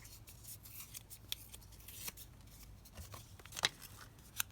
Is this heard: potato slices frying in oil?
no